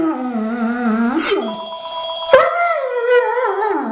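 A dog howls close and loud, its drawn-out rising and falling wails continuing while a telephone rings in brief bursts underneath.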